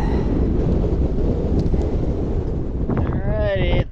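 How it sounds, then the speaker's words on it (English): Strong gusting wind buffets the microphone on a mountain summit trail on Mount Prophet in cold weather, a loud continuous roar, with a voice briefly heard near the end. "Windy and cold."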